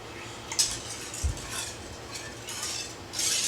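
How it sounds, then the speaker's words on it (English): A spoon stirring cooled milk at about 110 degrees Fahrenheit inside a multi-cooker pot for Greek yogurt, scraping the bottom with a few soft clinks and scrapes, quiet and close, no talking. "I'm stirring it a little bit and kind of getting out some of the crud that forms in the bottom"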